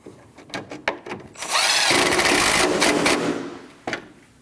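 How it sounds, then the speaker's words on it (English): A power tool drives a 10mm bolt on a 2003-2008 Subaru Forester during a headlight bulb replacement, with a few short clicks, then a loud sustained whirring buzz of about two seconds before a final tap. "Tighten your 10mm bolt."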